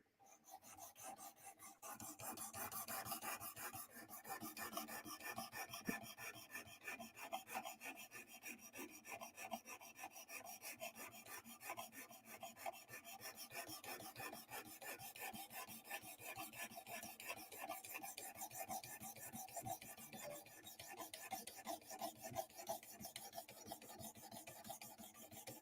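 The Drop Bear knife is drawn across a sharpening stone in quick, repeated rasping strokes, a close and continuous gritty scraping that carries on steadily without speech.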